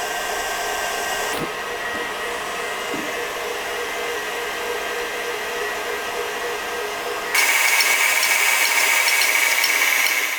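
Electric mixer whipping meringue with sugar for macarons, a continuous whirring motor drone with a few faint knocks early on, then a sudden jump to a louder, brighter whir near the end.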